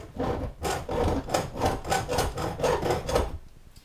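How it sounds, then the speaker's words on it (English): A big metal file rasps across the coated metal pan of a K9 XTreme Jr. trap, scraping the coating off in about seven steady, close, loud strokes. "I'll just take the big file first, and I'll take a couple swipes"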